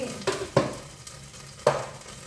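Whole spices such as cardamom, cinnamon and cloves hit hot oil for chicken biryani, sizzling close up with three sharp crackling bursts as each batch drops in, over a low steady fry.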